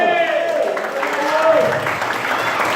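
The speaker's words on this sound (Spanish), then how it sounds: "Denle un aplauso al Señor" A church congregation applauds during a Sunday morning worship service, a steady wash of clapping heard throughout, with voices mixed into the crowd noise.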